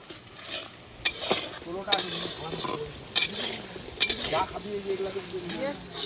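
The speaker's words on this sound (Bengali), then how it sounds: "এখন সুন্দর করে কষাবো, তারপরে একটু ভাজা ভাজা হয়ে গেলে জল দিয়ে একটু কষিয়ে দেবো" Onions fry in mustard oil while being stirred with a spoon, a steady close sizzle broken by repeated metallic scrapes and clinks against the pan, with voices talking over it.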